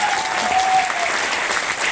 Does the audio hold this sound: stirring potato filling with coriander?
no